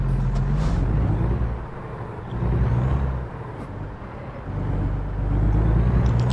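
Heavy truck engine in American Truck Simulator drones loud and steady, a low rumbling hum that swells and dips as the rig accelerates, with no talking.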